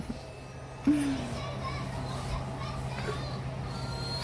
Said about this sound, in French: Pendant que les gars, ils jouent dehors.